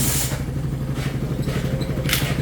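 A motorcycle engine with a new carburetor idles steadily nearby with an even, throbbing putter, plus a few light clattering hisses over the top.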